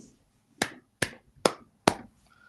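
Four sharp hand claps ring out at a steady pace, loud and close, with short gaps of silence between them.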